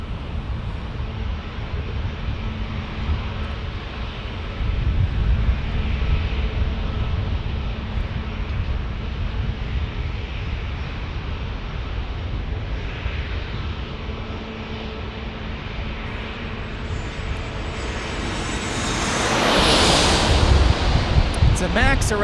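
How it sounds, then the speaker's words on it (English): Swoop WestJet Boeing 737 MAX jet arriving at San Diego airport, a distant rumbling roar under wind noise that swells near the end into a louder, closer rushing whine as the aircraft passes. "It's a MAX arriving. Oh, it's a Swoop WestJet."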